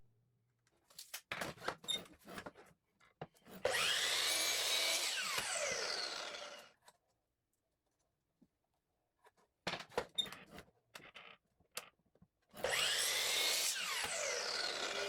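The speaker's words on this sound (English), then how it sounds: "I want 2 taller sides that I'll cut on the miter saw now" Miter saw cutting wood for small toolbox sides, two loud whining cuts that spin up and wind down, each preceded by rattling and clatter of handling the board, with a quiet pause between them.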